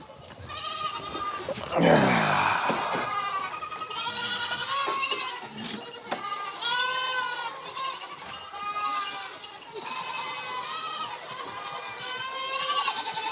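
Several goats bleat repeatedly at a farm animal sanctuary, overlapping calls with a wavering, harmonic tone, fairly close and loud, with no talking.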